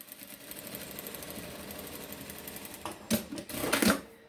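A sewing machine stitches a folded seam on fabric for a small phone and earbud pouch, a soft steady whir that grows into a louder, faster run of stitching near the end.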